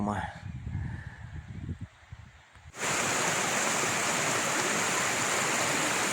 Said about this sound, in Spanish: qué maravilla el riachuelo aquí como se pone